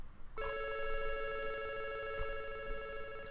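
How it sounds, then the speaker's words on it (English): A telephone rings in the video game Kero Blaster, a steady electronic ringing tone that starts after a brief pause and keeps going on its own. "There's that phone call again."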